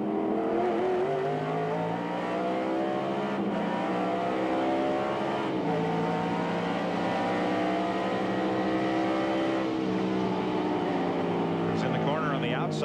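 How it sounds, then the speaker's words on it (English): Stock race cars roar through a green flag restart at Gateway in the 1998 Ram Tough 200, the onboard engine loud and continuous as revs rise and shift across the whole stretch, with commentary running over it. "We're going to ride with Mike Bliss for this green flag restart at Gateway."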